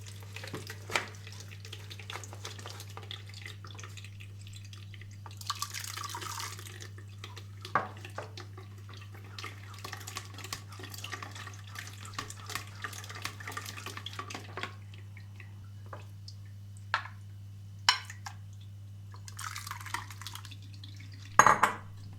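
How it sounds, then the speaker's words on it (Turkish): Watermelon and pomegranate juice poured through a strainer in a kitchen brings trickling and dripping, scattered clinks of metal utensils against dishes, and a constant low hum underneath. "şimdi süzecekten süzüyorum."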